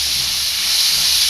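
Lima bean seeds (patani) sautéing in a pan give a steady, loud, close hiss of sizzling oil throughout, with no talk.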